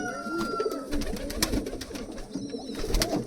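Racing pigeons coo softly in a loft, a steady low murmuring of several birds layered over one another throughout, fairly close and continuous with no speech.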